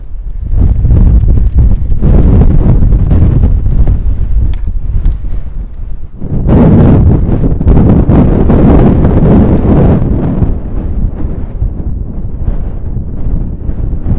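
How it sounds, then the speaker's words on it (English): Strong wind buffets the microphone on a Peak District hilltop with a loud, continuous roar, briefly easing near the middle before gusting hard again. "I did say it was going to be very windy up here."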